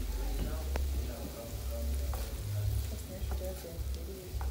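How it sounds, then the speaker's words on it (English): Spaghetti being stir-fried with a spatula in a pan over low gas heat, giving a steady close sizzle with scattered scraping and stirring clicks throughout. "Continue to stir with your spatula."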